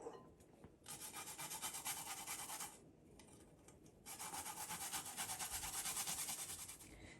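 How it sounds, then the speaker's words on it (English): Garlic grated on a kitchen grater for Guyanese-style fried shrimp seasoning, making two long runs of close, raspy scraping strokes separated by a short pause, with no talking. "I'm gonna grate my garlic."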